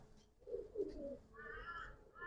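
Young racing pigeons give soft, low cooing calls close by, a short murmur that rises slightly in tone, over a faint background hush.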